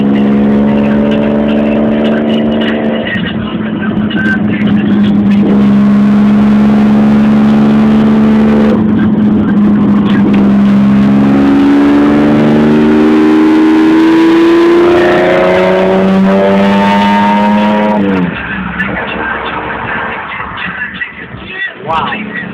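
A Lamborghini Diablo VT exhaust revving loudly and close, rising and falling engine pitch through several throttle sweeps before easing off near the end.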